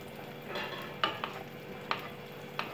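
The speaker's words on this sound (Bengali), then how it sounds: "সাদা তেলে ভাজবেন, আমি সাদা তেলেই ভাজছি, একটু ডুবো তেলে" Kolkata-style fish fry pieces sizzle steadily in deep white cooking oil, a soft continuous hiss broken by a few sharp clinks of a utensil against the pan, with no talking.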